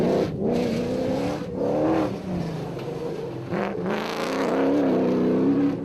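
A Toyota rally car on the dusty Magalies 400 rally route, engine loud and close, revving and surging with gear changes and brief lifts as it races past.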